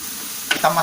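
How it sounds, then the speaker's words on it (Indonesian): Pork simmering in Rungus tapai rice wine sends up a soft, continuous bubbling sizzle, with a couple of brief louder splutters near the end of a short moment, no voices. "Air tapai ini adalah untuk merebus daging babi. Kita masukkan, kita biar dia mendidih ya."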